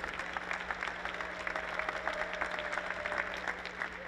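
Applause from a conference audience at a physical education institute event, a moderate, fairly distant patter of many hands clapping steadily for about four seconds over a low constant room hum.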